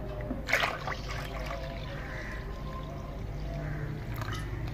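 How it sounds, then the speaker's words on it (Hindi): Water pours into a besan and yogurt mixture for kadhi, a soft, steady trickle and splash heard close up, with a brief louder clatter near the start. "और फिर बाकी का भी पानी इसमें डाल देंगे।"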